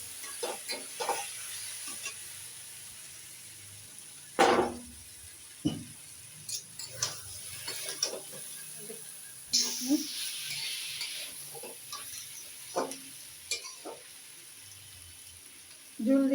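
Lentil fritters hit a pan of Malabar spinach curry with soft sizzling, then scattered utensil scrapes and stirring clatters in uneven bursts, fairly quiet and close, with occasional brief speech.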